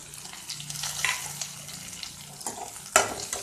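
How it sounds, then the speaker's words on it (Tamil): Curry leaves and finely chopped green chili hit hot oil in a pan for turnip poriyal. A soft, quiet sizzle runs under stirring scrapes, and a sharp clink of utensil on pan comes near the end. "அடுத்து கறிவேப்பிலை போட்டுக்கலாம். அடுத்து ஒரு பச்சை மிளகாய் வந்து சின்ன சின்னமாக நறுக்கி வச்சுருக்கேன், அதையும் சேர்த்துக்குவோம்."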